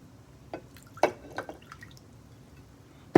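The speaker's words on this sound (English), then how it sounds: "Filling it up pretty good." Liquid poured into a jar of fermenting hot peppers, heard as a few scattered drips and small splashes spread out over a few seconds, quiet apart from one louder splash at the end.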